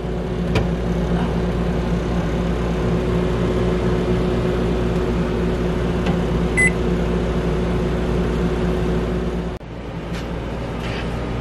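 A convection microwave oven in an RV runs with a steady loud hum and fan drone, with a short beep partway through and a brief dip near the end.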